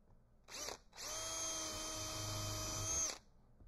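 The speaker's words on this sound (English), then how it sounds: "And then we'll pre-drill." A power drill pre-drills holes in wood for beehive box joints, giving a short whirring burst and then a longer steady high whine of about two seconds, close and alone.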